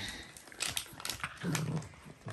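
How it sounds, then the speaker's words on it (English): Dalmatian puppies whimper and fuss close by in a short, restless burst of soft whines and snuffling, with no talk. "It's just getting the puppies out and spending a bit of time with them."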